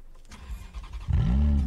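Video game car engine starting up and revving, a low rumbling roar that swells in the last half second after some faint background noise.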